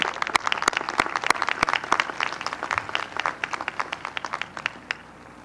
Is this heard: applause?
yes